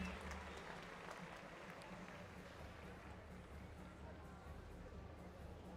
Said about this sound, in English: we can fix him up emotionally with a round of applause